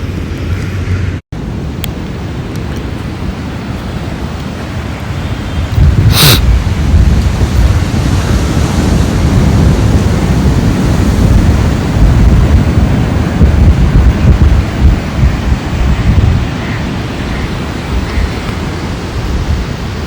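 Ocean surf and wind at Sagar Nagar beach in Vizag, a loud steady wash of waves with gusts buffeting the microphone, briefly cut out early on and then rising to a fuller roar that holds throughout.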